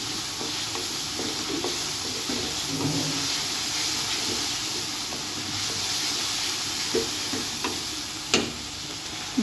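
Garlic paste, chopped onion and ginger paste frying in a pan for a lentil dish: a continuous close hiss and sizzle with occasional scraping and light clicks of stirring, one sharper tap near the end.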